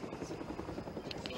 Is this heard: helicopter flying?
yes